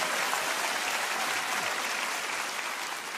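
Loud, steady applause from an audience fills the whole stretch, dense and continuous without a break or any voice over it.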